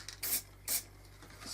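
Spray can hissing through a paper mask onto a trailer side panel, three short close bursts spaced a fraction of a second apart, alone with no talk.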